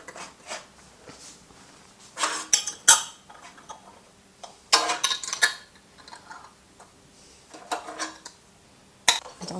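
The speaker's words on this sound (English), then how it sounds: "And we now need to just put the lids on" Lids going onto glass jars of jam, heard as short clusters of sharp glassy clinks and taps separated by quiet gaps, close and fairly soft.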